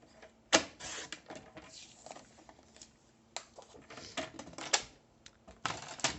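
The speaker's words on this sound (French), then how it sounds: "Et je viens couper un dernier morceau de 2 cm." Cardstock being cut for a scrapbook album page, heard as a series of crisp close snips and slices in irregular bursts, some sharp and louder, with quiet gaps between and no talking.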